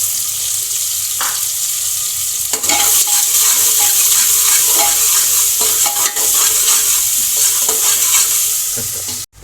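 Onions frying in hot oil with curry leaves and garam masala for a goat head curry in a pressure cooker, giving a loud, steady sizzle with bursts of stirring scrapes and a brief tap-water splash, without any voices.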